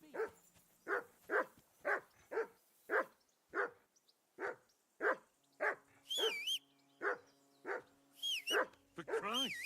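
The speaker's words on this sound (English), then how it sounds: "Henry, that barking's driving me nuts." A dog barks in a video game, sharp loud barks repeating at a steady rhythm for several seconds, joined near the end by higher whining, yelping cries.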